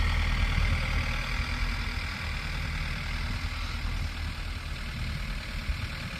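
Roto-till tractor engine runs steadily in a field with big stones, a dense, continuous low rumble and mechanical clatter at constant loudness throughout, with no voices.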